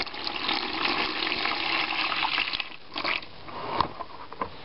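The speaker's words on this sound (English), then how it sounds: "Just filling up my tub here with water" Water runs from a tap into a tub indoors, making a steady rushing splash that softens and sputters toward the end.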